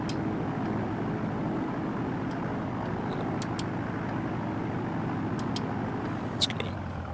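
Piper Cherokee engine held at about 1700 RPM for a magneto check in a flight simulator, a steady, loud broadband drone running throughout with a few faint clicks near the end.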